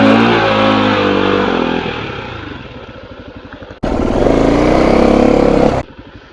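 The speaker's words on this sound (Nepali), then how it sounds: "बाइक अड्केर साथी मिलाउँदैछन्" A motorcycle stuck on a rough road revs hard while riders work it free, with a loud throbbing engine that dips to a lower chug, cuts briefly, then roars back up before easing off.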